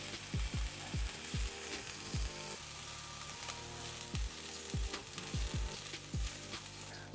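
Vegan sausage frying in a pan, with a steady close sizzle and crackle and occasional soft scraping and stirring knocks.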